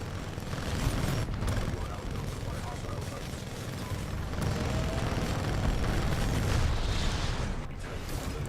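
Explosion in the Titanfall 2 video game, a heavy broadband boom amid continuous battle noise and rumbling, with speech mixed in.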